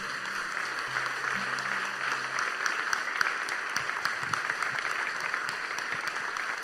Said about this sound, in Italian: io vorrei che facessimo un applauso per loro